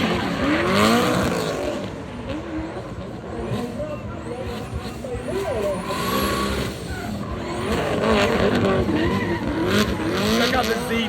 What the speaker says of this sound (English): A regular cab, short bed Ford Ranger with a twin turbo V8.